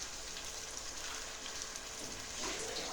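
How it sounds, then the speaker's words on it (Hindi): Water poured from a cup into a cooking pan for mash dal halwa, a steady hissing, splashing pour close by that swells briefly near the end, with no talking. "और साथ ही 1 कप पानी भी डालेंगे।"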